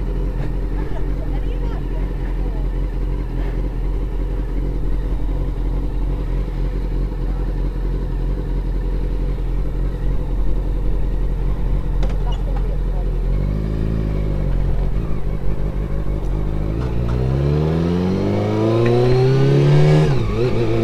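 Motorcycle engine and exhaust while riding, a constant low droning rumble with wind noise, and rising revs as the bike accelerates near the end.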